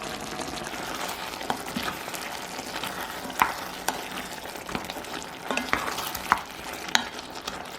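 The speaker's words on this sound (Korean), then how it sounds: "월계수잎, 바질가루, 고춧가루 넣어 대강 섞어주세요." A spoon stirs tomato sauce in a pot with bay leaves, basil and chili powder, making soft scraping and gentle bubbling. It is quiet and steady with a few sharper clinks, and no voices.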